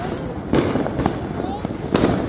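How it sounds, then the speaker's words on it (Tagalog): New Year's Eve fireworks burst at a distance: several sharp booms and crackles come in separate bursts over a steady rumble, with people talking in the background. "nakikinood na nga lang ng fireworks"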